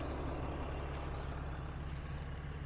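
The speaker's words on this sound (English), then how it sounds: "that is a truck" A loaded gravel-hauling truck, pulling a trailer with about 4 tons of gravel, gives a steady, loud low engine rumble close by that holds throughout, with no talk.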